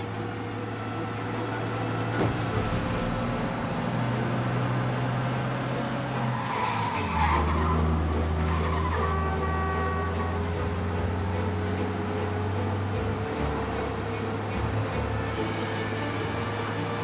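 A car in the video game Mafia: Definitive Edition races along with a steady, fairly loud engine drone, with brief tire skids and squeals partway through; no voices.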